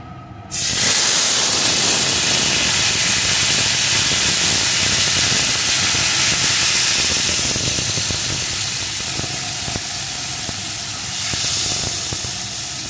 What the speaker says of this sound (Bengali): এখন যে তরকারিটা ঢেলে রেখেছিলাম ওই তরকারি থেকে চামচে প্রথমে একটু করে দিয়ে দেব